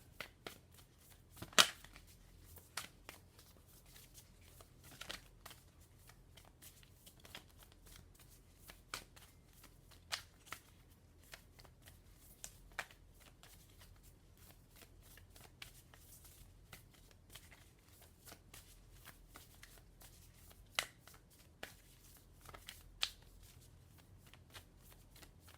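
A Minty Tarot deck of cards is shuffled at close range in a quiet room, giving soft, sparse riffling and tapping with occasional sharper clicks and no talking.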